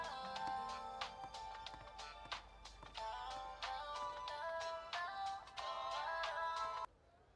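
A phone ringtone for an incoming call plays as a bright repeating electronic melody in bursts, fairly quiet and close, stopping abruptly near the end.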